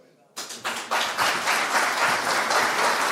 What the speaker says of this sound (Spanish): Este aplauso caluroso es para usted en agradecimiento por haber estado acá